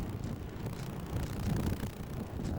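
Strong wind gusts buffet the microphone on a Gulf of Mexico beach at Port Aransas, a steady roaring rumble that swells slightly midway, with no voices.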